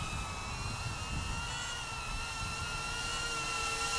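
Jumper X86 FPV micro drone hovering at just over half throttle, a steady high-pitched whine of small motors and props holding constant close by, with no talk.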